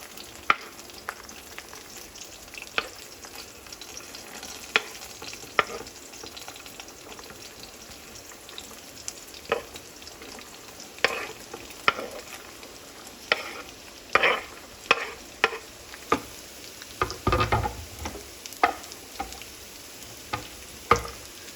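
Carrots frying in a pan with a steady low sizzle, punctuated by repeated sharp scrapes and clacks of a spatula stirring, busier and louder toward the end, no talking.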